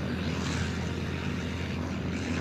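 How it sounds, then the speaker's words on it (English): Small propeller airplanes hanging from a metal trapeze bar under a military airship rev their engines in a loud, steady, continuous drone with no pauses. "the tiny planes would rev their engines as they hung from a metal bar called the trapeze"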